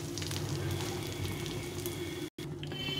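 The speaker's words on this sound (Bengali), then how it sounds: "তো আমি এই তেলে মাছটা ছেড়ে দিচ্ছি" Fish frying in hot mustard oil, a dense, steady crackling sizzle heard up close, with a brief cut in the middle before the sizzling continues.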